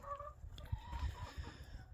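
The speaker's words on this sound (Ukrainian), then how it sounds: "Там от кучерявий півник і от кучеряві курочки" Curly-feathered rooster and hens on a farm cluck softly and briefly, faint and close, over low background rumble.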